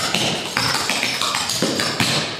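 Tap dance steps, hops and toe scrapes in a Canned Heat duet routine, heard as crisp metallic taps in quick rhythmic clusters with short scrapes, close and alone.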